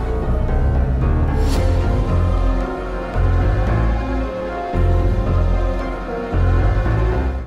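End-of-the-world theme music from the video game Zeno Clash plays loud and heavy, with booming low tones in long swells that drop out and return, a sharp accent near the start and no speech.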